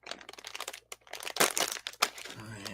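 Stiff plastic product packaging being pried and torn open, giving bursts of crinkling, crackling and tearing that come in uneven clusters, close and fairly loud, with short pauses between efforts.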